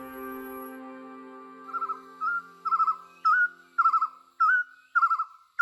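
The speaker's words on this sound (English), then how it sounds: "This is a Sabah partridge." A Sabah partridge calls in Borneo rainforest, a series of about eight loud, clear whistled notes in a steady rising rhythm after a faint tonal hum, close and alone.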